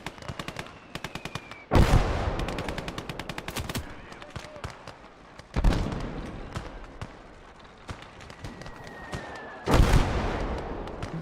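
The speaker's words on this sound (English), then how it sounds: "They're trying to hit me with mortars." Three heavy mortar impacts land in a shooter game, each a loud booming blast standing out above a steady stream of rapid gunfire and clattering shots, with incoming whistles leading into the first and last explosions.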